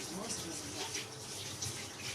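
Tap water runs steadily as chicken gizzards and liver are rinsed together in a kitchen sink, a continuous close splashing flow with no talk over it.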